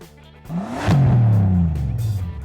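A 2017 Alpine A110 sports car with a 1.8 litre four-cylinder turbo engine revs loud and close, rising sharply in pitch then holding a strong, slowly falling note for over a second, with no voices.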